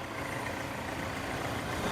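Hyundai i20 diesel from 2014 idling steadily, a smooth low engine rumble with constant hum and no voices.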